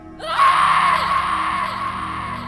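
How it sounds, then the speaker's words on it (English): A woman gives a loud, sustained scream in an audio drama, rising sharply then holding for about two seconds before slowly fading, close and alone. "he enters Naomi's hideout to look for Ginny, hears her loud scream."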